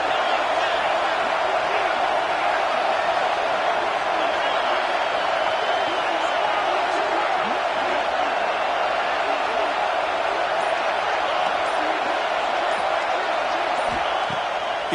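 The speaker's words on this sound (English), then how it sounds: "this crowd trying to help this defense rise to the occasion" A college football stadium crowd roars steadily on a fourth down in a Longhorns vs Fighting Irish game, a dense continuous cheer with no break.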